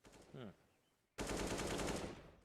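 A burst of rapid automatic gunfire shooting through a wall in Counter-Strike on the Inferno map, loud and close, arriving abruptly after a short faint stretch and lasting over a second.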